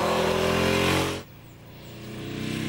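Buell XB9SX motorcycle with its revised Thunderstorm engine revs hard and loud for about a second under a quick throttle twist, then cuts off abruptly into a low, quieter idle rumble.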